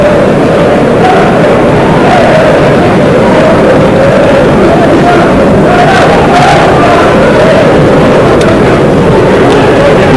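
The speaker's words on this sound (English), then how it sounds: "Very good crowd in here tonight." A large football crowd at a 1990 Grimsby Town v Scarborough league match roars and chants continuously, loud and dense throughout, with swelling surges of cheering.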